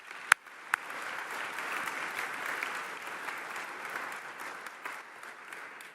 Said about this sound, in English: Let's give them a round of applause for all that they have done.